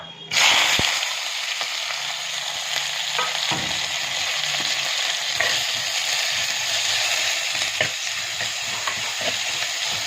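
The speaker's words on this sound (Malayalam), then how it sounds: "ഇഞ്ചി വെളുത്തുള്ളി സവോള തക്കാളി പച്ചമുളക് കറിവേപ്പില ഇത്ര ഇട്ട് കൊടുത്തൊന്ന് വഴറ്റിയെടുക്കുക" Ginger, garlic, onion, tomato, green chili and curry leaves sauté in hot oil for a fish curry, with a loud, steady sizzle that starts abruptly and runs on with occasional scraping stirs.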